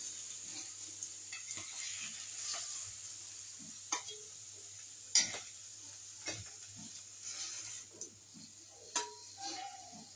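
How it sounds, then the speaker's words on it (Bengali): Fried paneer settles into a lightly heated pan, giving a soft, low sizzle with scattered small clicks and stirring taps, fairly quiet and close, with no one talking. "পনিরটাকে ভেজে আমি একটু হালকা গরম, একদম যাতে সফট থাকে, একদম হালকা গরমের মধ্যে দিয়ে দিলাম।"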